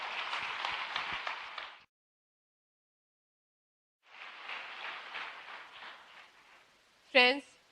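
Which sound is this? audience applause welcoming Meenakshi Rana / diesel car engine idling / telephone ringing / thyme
audience applause welcoming Meenakshi Rana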